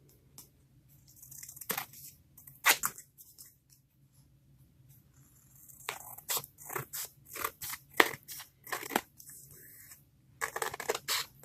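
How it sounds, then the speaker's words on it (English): Scissors trimming the edges of a paper junk journal tag, with bursts of crisp snipping that grow denser and more rapid in the second half, heard up close with no talking. "Then I'm going to flip it over and trim it up."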